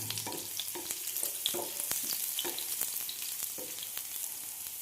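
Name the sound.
garlic and ginger frying in hot oil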